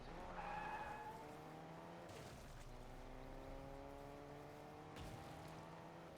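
A car drives in Fortnite with a steady engine drone and gear-shift pitch changes, while tires squeal in skids at a couple of points, heard alone and fairly quietly.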